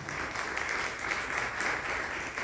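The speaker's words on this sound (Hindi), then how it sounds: "और एक बार जोरदार तालियां बजाइए आनंद वैद सर के लिए" Sustained crowd applause at a live music program, many hands clapping in a thick, even roar that holds steady from start to finish without any voices over it.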